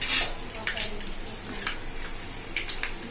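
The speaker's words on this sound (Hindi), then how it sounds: "चिंगुड़ी पड़ला तेल पकेली चिंगुड़ी भजा आरंभ है।" Prawns fry in hot oil for a home-made prawn mustard curry, a close sizzling hiss broken by bright clinks and scrapes of a utensil against the pan, with no clear talk.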